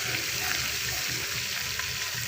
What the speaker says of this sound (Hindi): गोश्त को घी में अच्छी तरह भून लें